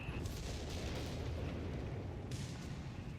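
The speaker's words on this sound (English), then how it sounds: "Yeah, it's the base artillery." Base artillery barrage in Company of Heroes 3 during a 4v4 match on Oasis Depot, heard as a continuous heavy rumble of distant booms and blasts layered into a dense, loud wash of battle noise.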